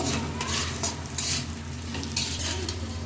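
Hog plum pickle mixture with salt and pepper being sautéed and stirred in a pan, a steady close sizzle with scraping spoon strokes throughout, no talking.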